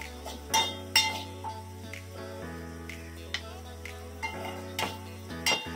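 A chili pepper frying in hot oil in a pan for a yogurt tadka, a steady soft sizzle with scattered clinks and stirring taps of a utensil against the pan, close and fairly quiet with no talking.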